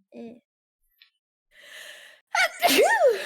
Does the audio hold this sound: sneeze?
yes